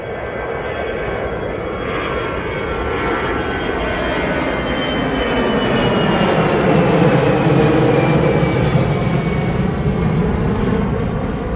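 An Airbus A319 jet airliner at Manchester Airport roars past, a loud, sustained engine rush that swells toward the middle and stays strong to the end, with shifting whining tones.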